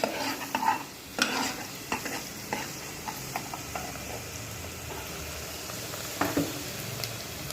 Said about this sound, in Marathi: चांग बारीक चॉप करून टाकलेले आहे कांदा थोडा लालसर होऊ द्यायचा